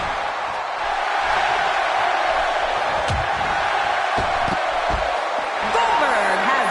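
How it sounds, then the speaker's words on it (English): A dense, steady roar of an arena crowd fills a WWE wrestling video game Royal Rumble event, with a few faint thumps and commentators' voices running over it. "The crowd is buzzing."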